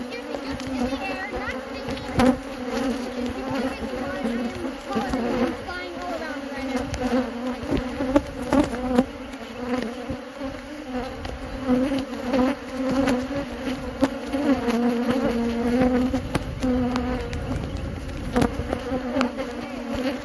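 Honey bees swarm in flight around an open hive, a continuous close buzzing drone with individual insects zipping past the listener amid an uneven, shifting hum.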